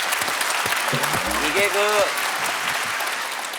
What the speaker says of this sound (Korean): 여성분들 박수 한번 주시죠.